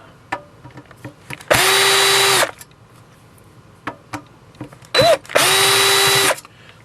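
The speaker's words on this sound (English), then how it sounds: "Now you guys see me spinning these screws out with my little Black & Decker here, little 20-volt Black & Decker." A 20-volt Black & Decker cordless drill backs screws out of a radio's cover in two loud whirring bursts, the second briefly stuttering before it runs again, with clicks and handling noises between.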